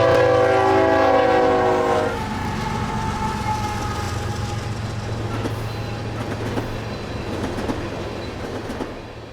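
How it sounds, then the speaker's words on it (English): An empty crude oil freight train returning from the Bakken region sounds its horn loudly up close for about two seconds, then rolls past with steady rumbling and clattering wheels on the rails. "Our first train for the program is Empty Oil Train 65R"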